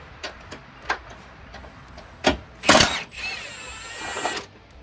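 Large power tool on its automatic setting working a big 17 mm bolt during a Toyota Prius 1.8L engine removal, a few sharp clicks followed by a loud burst of hard hammering that settles into a steady whirring spin.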